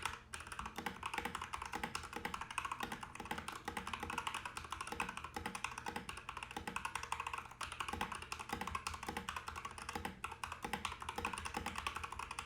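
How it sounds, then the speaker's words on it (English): Fast, steady typing on a loud, clacky computer keyboard about 1.5 to 2 feet from the microphone, keys clattering continuously with no voices. "Here is probably one of the more loud keyboards that I have, so we're going to do a little bit of typing"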